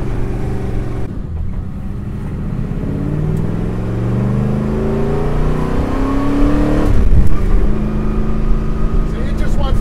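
A 700 hp 1967 Ford Fairlane's engine revs hard close by, its deep, rough idle climbing in repeated pulls to a roaring peak and dropping back, with people talking over it.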